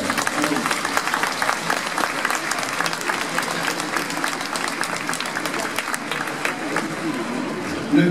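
An evening audience at a museum inauguration gives a young actor sustained, steady applause, dense and even throughout with a brief swell at the end.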